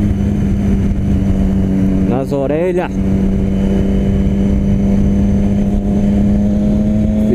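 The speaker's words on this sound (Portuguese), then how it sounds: "Primeira vez indo pro trabalho com um escapamento novo" A motorcycle with a new aftermarket exhaust roars steadily while riding to work, a loud close droning engine note with a short revving surge midway, under someone talking.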